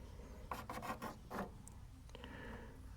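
Sanding a model jet part by hand: a few short rasping strokes, close and quiet, followed by faint handling noise.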